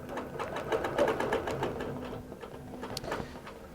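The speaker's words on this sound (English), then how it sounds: "there we see it automatically cross-hatching this area" QBOT V3 quilting robot driving a sewing machine through a crosshatch fill, a steady rapid needle chatter with rhythmic mechanical pulses, close and continuous with no talk.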